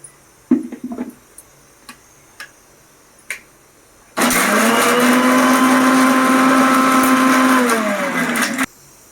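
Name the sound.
mixer grinder grinding masala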